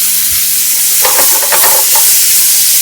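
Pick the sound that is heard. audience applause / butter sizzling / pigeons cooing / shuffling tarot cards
butter sizzling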